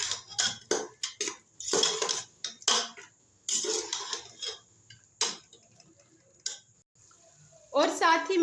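A metal spoon clinks and scrapes against a pot while chana is stir-fried with garam masala and dry coriander, producing sharp, irregular taps and scrapes close by. Someone talks over part of it.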